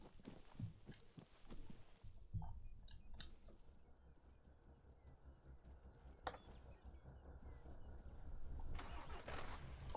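A humanitarian truck engine starts up in the video game Arma 3, a clear crank then a steady mid-pitched engine running, building louder toward the end with no talk over it.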